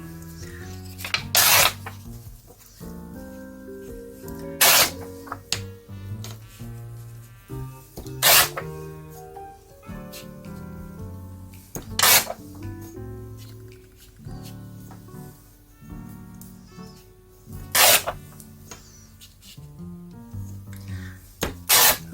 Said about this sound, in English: And I'm going to tear this up into strips.